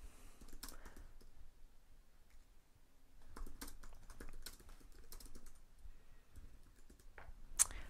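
Someone types on a computer keyboard while programming an Arduino, making soft, irregular clusters of key clicks with pauses between bursts, fairly quiet and close.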